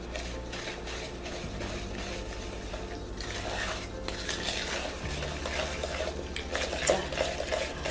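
Eggs, sugar, salt and spices stirred together in a large bowl for pumpkin pie, giving steady close scraping and clinking of a utensil against the bowl with no talking.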